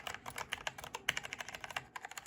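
Fingers typing quickly on a Logitech mechanical keyboard, a near, crisp run of rapid key clicks in an irregular rhythm with no talking.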